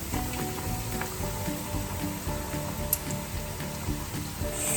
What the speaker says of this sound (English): Now, you just drop it in the hot oil.